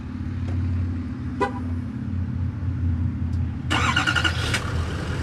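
A Chevrolet Silverado 2500 HD pickup sits with a low background hum; a few short clicks come first, then the engine cranks with a loud burst and settles into a close, rumbling idle.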